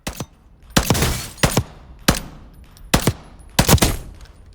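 Bushmaster ACR rifle fire in the Warzone video game: five sharp, loud shots in an uneven rhythm, some in quick pairs, each with a short ringing tail, with no talking.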